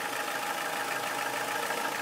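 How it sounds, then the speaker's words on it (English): A Chrysler PT Cruiser engine idles with a weird noise, a steady buzzing, rattly drone that stays constant and close throughout with no voices. "It is in fact the engine, because I can feel a lot of vibration going on over here."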